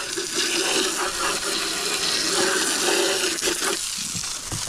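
Water spraying forcefully from a nozzle turned to its strongest setting, a loud close rushing hiss that runs steadily and eases slightly near the end.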